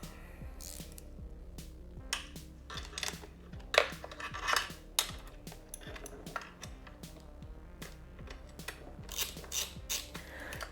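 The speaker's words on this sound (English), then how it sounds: "I'm going to end up using a 10 millimeter box wrench with a little offset thing here just to make it easier" A 10 mm offset box wrench tightening bolts on a BMW F750GS/F850GS motorcycle while fitting a GIVI Monolock top case, with a steady series of close metallic ratcheting clicks and light clinks of tool against metal.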